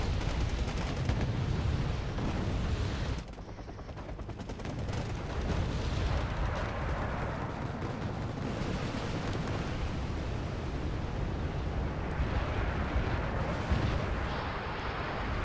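Continuous distant rocket fire and explosions rumble across a mountain battlefield in Wargame Red Dragon, a dense, steady barrage of booms and crackling impacts with a brief dip before resuming.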